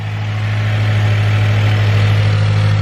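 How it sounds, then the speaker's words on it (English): A Mazdaspeed 6 with a newly installed downpipe idles loud and close, a deep steady engine drone with a faint turbo whistle riding over it. "You can hear spool now just on idle."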